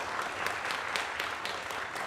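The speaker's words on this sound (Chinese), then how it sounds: "我们一起来拍手来欢迎我们的诗班班员" A church congregation applauds the choir members at a Sunday worship service, steady dense clapping that fills the room evenly for its whole length, with no voices over it.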